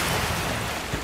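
Water splashes in the video game Watch Dogs during a thunderstorm, heard as a short, continuous broadband wash of sloshing, rain-like noise at steady loudness, with no speech.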